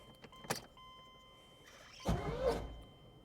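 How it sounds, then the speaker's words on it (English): A 1986 Corvette C4 with a freshly changed fuel pump is cranked close by: a short click near the start, then a louder burst of starter whir about a second long that fades without catching. "Let me try to start the car"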